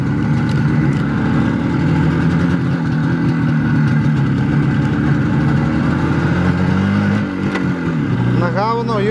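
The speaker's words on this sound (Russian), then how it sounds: "Как четко работают цилиндры. Вот так карбюратор отрегулированный." A car engine with an adjusted carburetor idles steadily and close, its cylinders firing in an even, continuous rhythm, with a brief shift in tone near the end.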